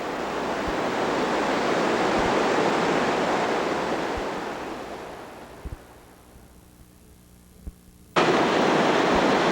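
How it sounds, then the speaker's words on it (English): Cheeseburger Falls, a river waterfall on an East Coast rafting stretch, roars as a loud broadband rush that fades for a moment before surging back in abruptly at full strength, with no voices. "Cheeseburger Falls right here is just below Lost and Found."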